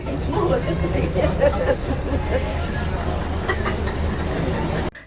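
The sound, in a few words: vintage rail motor train running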